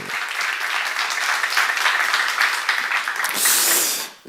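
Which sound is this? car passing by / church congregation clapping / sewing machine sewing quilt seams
church congregation clapping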